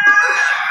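A gamefowl rooster, either a Golden Boy or a 5K Sweater, crows once on a farm. The crow is loud, close and sustained, and no voices are heard.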